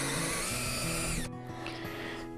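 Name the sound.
power drill with half-inch auger bit boring a mortise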